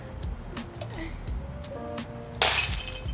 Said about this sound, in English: I didn't think that was gonna smash like that